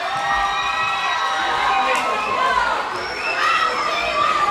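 A high school crowd cheers and shouts for a comedian coming on stage, a loud sustained roar of voices with scattered whoops and chatter.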